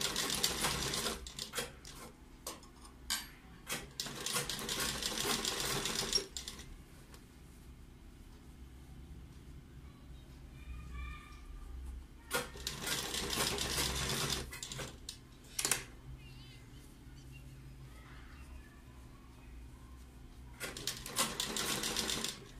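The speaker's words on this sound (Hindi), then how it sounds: "सिलाई लगा देंगे।" A sewing machine stitches folded red fabric onto a buckram sleeve for a cold shoulder design, running in loud steady bursts that pause in between, close and without talk.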